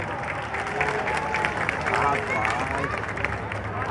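Outdoor crowd applauding and cheering at a city anniversary celebration in Porto Nacional, a steady wash of clapping with crowd noise and an amplified voice speaking over it throughout.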